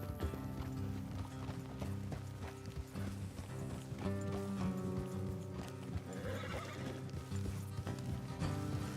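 Horses in the Red Dead Redemption 2 game clip-clop steadily along a road with a whinny and creaking tack, over a dense bed of background music, no talking.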